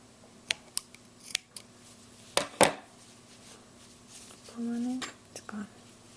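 Scissors snip crochet yarn in a few quick, close cuts while working on baby boy booties, with a soft whispery voice and light handling noises around them.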